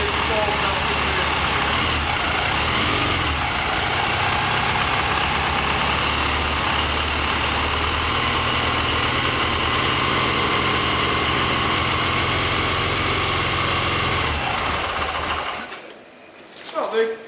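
A Triumph Bonneville T140 motorcycle engine idles after an oil change, a steady loud chugging hum that runs evenly and then cuts off near the end, with a voice speaking over it.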